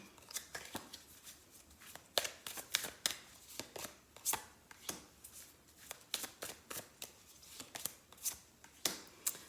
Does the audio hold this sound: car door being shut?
no